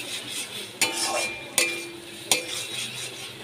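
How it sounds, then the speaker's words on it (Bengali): Potatoes being sautéed in a pan for an egg dish, a soft continuous sizzle broken by three sharp clinks of a spoon against the pan at even intervals. "আলু দিয়ে ভালো করে কষিয়ে নিচ্ছি।"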